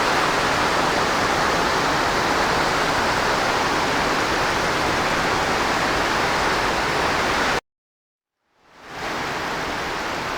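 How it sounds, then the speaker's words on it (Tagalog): Heavy rain pours steadily in a loud, dense broadband wash on a muddy, unfinished concrete road, cutting out abruptly near the end before returning. "Ang lakas ng ulan."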